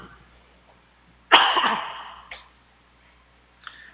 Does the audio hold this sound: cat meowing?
no